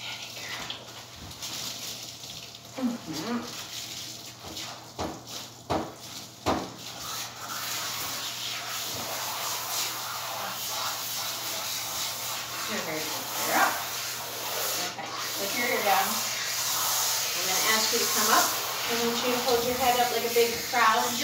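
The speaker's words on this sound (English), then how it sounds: "We're going to be rinsing you for an awful long time." A standard poodle is rinsed in a grooming tub: a steady hiss of water spray runs close throughout, with someone talking over it and the dog's occasional yips and whimpers.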